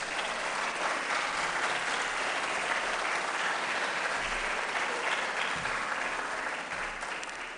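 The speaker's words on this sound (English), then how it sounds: "Let's give them a big round of applause." An audience at a temple's MLK birthday celebration gives winners a long, steady round of applause, dense and sustained, tapering slightly at the very end.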